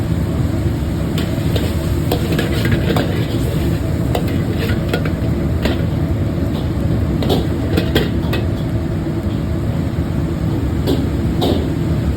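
Shrimp stir-fry in a hot pan with a loud, steady sizzle throughout, broken by frequent scraping and clinking strokes of the spatula.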